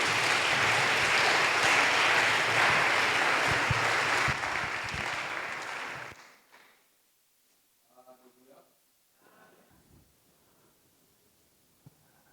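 Congregation in a church bursting into loud sustained applause that fades out after about six seconds, followed by quieter voices speaking and singing faintly in the room.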